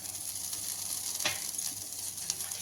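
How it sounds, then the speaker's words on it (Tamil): Dried red chillies and rock salt dry-roasting in a pan for paruppu podi, giving a continuous soft sizzle and crackle with a few faint scraping stirs. "மிளகா வத்தல் போட்டு கல் உப்பையும் சேர்த்து போட்டுக்கலாம்"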